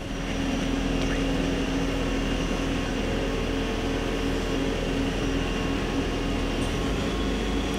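A Hardinge CHNC-III CNC lathe spindle runs at 2500 RPM, a steady even whir with a faint tonal whine, constant and moderately loud throughout with no speech.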